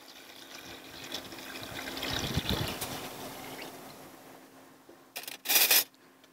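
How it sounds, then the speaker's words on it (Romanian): Water is poured into a pot of fish carcass pieces to start a fish stock: a soft trickle throughout, swelling midway, then a brief louder splashing burst near the end. "Iar acum adăugăm puțină apă."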